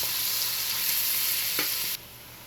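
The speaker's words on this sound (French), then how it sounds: "Let's add the celery now. I'm going to let it cook just for 1 minute." Chopped celery frying in a pan for fried rice, a loud, steady hiss and sizzle close up, with a brief clink of a utensil stirring before the sizzle drops quieter near the end.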